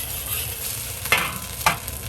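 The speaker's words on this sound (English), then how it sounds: "stir up this mixture" A sauce mixture containing cornstarch is stirred by hand while preparing Chinese sweet and sour squirrel fish. Two quick, brisk scrapes stand out over a faint steady hiss, with no voices.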